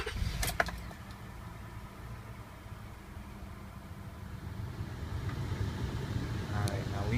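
A car with a head gasket leak sits idling, a steady low engine rumble under a few clicks, with someone talking over it.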